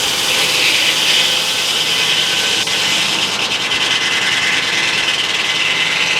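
A big Frick sawmill cuts through an oak log, producing a loud, continuous broadband rasp that holds steady throughout, alone with no voices.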